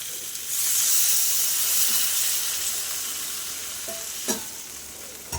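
Water poured into a pan of spice paste frying with potato and pointed gourd, giving a loud steady sizzle and hiss that swells early and then settles, with a couple of clinks near the end and no talking.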